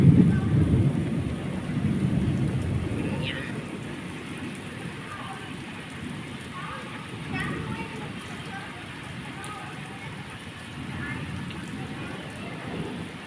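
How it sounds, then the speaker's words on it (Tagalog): Steady rain falling outdoors in Qatar during the first rain of October 2023, a continuous wash of drops that is loudest at the start and settles to a softer even patter, with faint voices in the background. "Ganda ng ulan."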